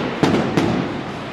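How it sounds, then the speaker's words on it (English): Fireworks going off outdoors during a Pioneer Day celebration, two sharp bursts about a third of a second apart over a steady background hum. "I see more fireworks right there, so I hope y'all can hear me with the fireworks about"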